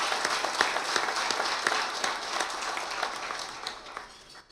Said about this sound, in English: Big round of applause for our leaders.